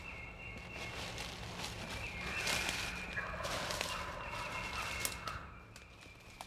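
A wild turkey gobbles at a distance in open country on an early March morning in southwest Mississippi, with a few rough bursts rising over steady outdoor background noise.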